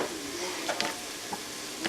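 A sauce for spinach and crab over shrimp and cod sizzles softly as flour is stirred in to thicken it, with a few light spoon scrapes against the pan.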